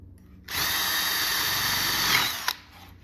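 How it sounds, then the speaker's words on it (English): A power drill boring a screw hole into wood while building weight pocket access doors for a frame. The motor spins up sharply and whines steadily and loudly for about two seconds, then cuts off with a brief clunk. "the last thing I'll do is get my drill here and put a"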